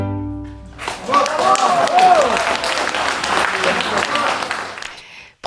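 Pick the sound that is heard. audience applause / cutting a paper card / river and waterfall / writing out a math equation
audience applause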